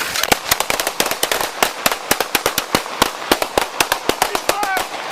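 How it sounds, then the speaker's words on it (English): Police gunfire erupts in a rapid volley of many sharp, loud shots in close succession, some overlapping, during an officer-involved shooting. "shots fired by police"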